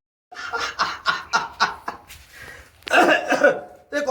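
A burst of rapid coughing, several harsh hacks in quick succession, then a pause and another rough coughing fit, close and loud.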